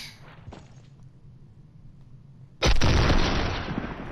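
A sudden loud burst of video game gunfire breaks in after a stretch of quiet low background noise and keeps roaring at close range to the end.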